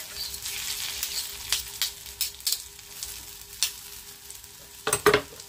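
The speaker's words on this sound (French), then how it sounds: "je viens déposer ma pâte dans l'huile chaude" Spoonfuls of batter dropped into hot oil in a pan, a close crackling sizzle broken by several short bursts and scraping clicks, louder near the end, no talking.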